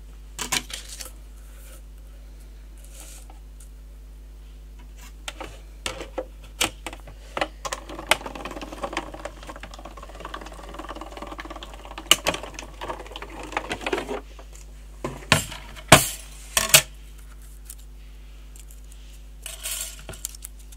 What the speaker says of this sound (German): ich kann mal noch gleich auch dickeres noch mal ausstanzen für gegebenenfalls die Außenseiten